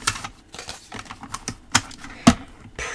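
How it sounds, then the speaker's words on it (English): A small paper trimmer slicing down through a sheet of paper, heard as a series of sharp clicks and short rasping strokes, with a louder snap near the end, close and alone without voices. "Just get my small trimmer out for this."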